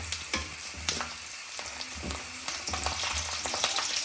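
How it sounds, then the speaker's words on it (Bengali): Potato sticks and chips fry in hot oil with a steady, close crackling sizzle, broken by occasional stirring clinks and scrapes. "আরও কিছু ভেজে নিব, আলুর সেউই, চিপস"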